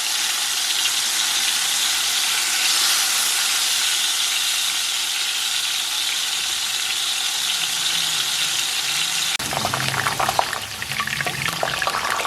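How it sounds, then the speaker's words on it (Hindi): A batch of fries and chicken frying in hot oil, a continuous loud crackling sizzle with steady hiss, shifting near the end into a busier bubbling burst as more food goes in. "अब मैं जो दूसरी है वो भी इस तरह फ्राई कर लूँगी।"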